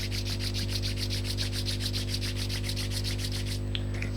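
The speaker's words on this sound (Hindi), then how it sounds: "rub your hands" Palms rub briskly together during a beginners' yoga session, a steady rhythmic swishing friction close to the mic over a constant low hum, with no speech.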